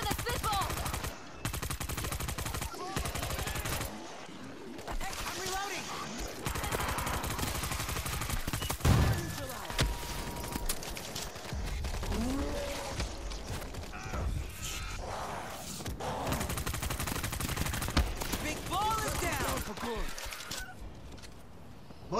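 Rapid bursts of PDW gunfire in the zombie shooter World War Z, dense and continuous with game noise and shouting voices layered throughout.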